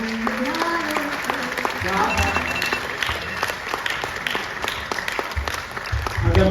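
Applause from a stand-up comedy audience, a steady wash of clapping that runs the whole time at moderate level while someone talks over it.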